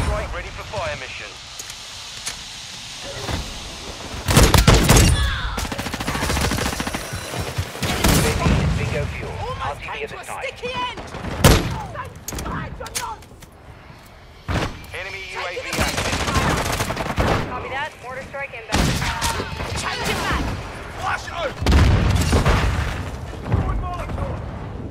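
Airstrike blasts and rapid gunfire in a Call of Duty match, with repeated loud booms and bursts of shots scattered throughout, mixed with in-game voices and other battle noise.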